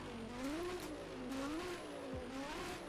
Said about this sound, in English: You can also hear the turbo spooling